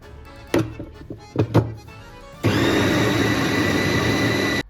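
A few thumps of ingredients going into the bowl come first. Then a food processor starts grinding a falafel mixture with fresh coriander, and its steady, loud whirring motor runs to the end.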